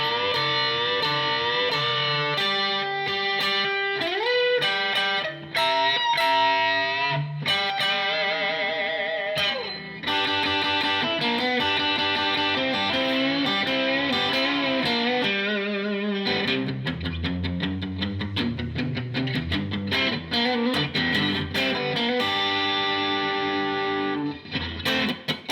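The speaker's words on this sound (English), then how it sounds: "It's not a lot of distortion, but it is good sustaining." An Eastwood LG150 electric guitar plays sustained notes and chords through moderate distortion, a long continuous passage with ringing held tones and shifting pitches, loud and clear with no voices.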